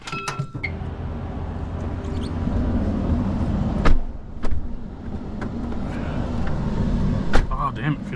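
A 2011 Ram truck gets a test drive after evaporator and heater core work, its steady low engine and road rumble filling the cab, with a few sharp clicks and knocks, a brief whine and people talking over it.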